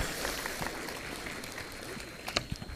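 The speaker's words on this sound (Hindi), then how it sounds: "एक बार जोरदार तालियों से हम अपने भावों को व्यक्त करें।" A hall audience claps heartily to welcome a guest at a training program ceremony, with dense, steady applause filling the whole stretch and a few louder claps standing out near the end.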